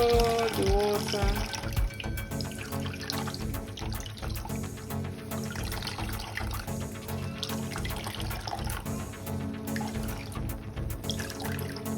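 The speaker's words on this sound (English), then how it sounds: "I'm gonna take all the water out of the cabbage. So you can see I'm squeezing my cabbage. I'm removing all the water." Water squeezed by hand from chopped cabbage for cabbage fufu: continuous wet trickling and dribbling into a bowl or sink, fairly close and steady throughout.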